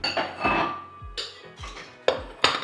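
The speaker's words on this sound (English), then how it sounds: "I'm just gonna get 2 bowls to serve in." Two serving bowls are taken out and set down for plating vodka pasta, giving several close ceramic clinks and knocks spaced unevenly, each with a short ringing decay.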